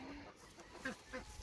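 A chicken on a family farm gives a few soft, faint clucks over low outdoor background noise, with no voices alongside.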